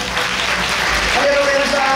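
Applause from the crowd at a university idol dance competition, a broad wash of clapping blended with loud amplified talk and music-like tones over the hall.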